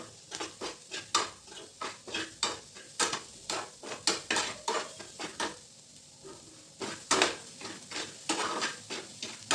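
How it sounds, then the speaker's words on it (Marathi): Spices get mixed into a cauliflower paratha filling in a bowl, a utensil knocking and scraping in quick repeated strokes with brief pauses, close and moderately loud. "परत एकदा छान मिक्स करून घेऊ सर्व मसाले"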